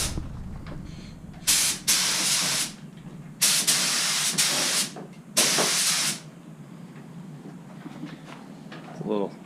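Paint spray gun laying down the first coat on a custom motorcycle in a home workshop, three long steady hissing bursts of a few seconds each, close and loud with short pauses between.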